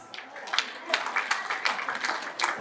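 Wedding guests clap in a steady rhythm at a Kazakh wedding celebration, sharp bursts of applause repeating over a murmur of voices and singing in a lively hall.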